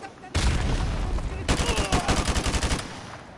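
An MP5 submachine gun fires in Modern Warfare 2 Remastered: a loud sustained burst, then a short gap and a second stretch of rapid, evenly spaced automatic shots that taper off at the end.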